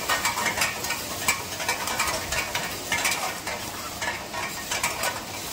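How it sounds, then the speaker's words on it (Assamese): Onions frying in hot oil until lightly browned, with steady, dense crackling and sizzling and occasional stirring scrapes, close and continuous with no voices. "পিঁয়াজখিনি ধুনীয়াকৈ ভাজি ল'লোঁ।"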